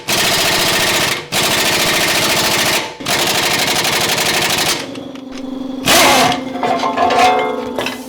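An impact gun on an extension rattles off brake bolts on a 2009-2015 Honda Pilot in loud, sustained bursts of hammering. Short pauses separate the bursts, and a lower engine-like hum and softer clatter follow at the end.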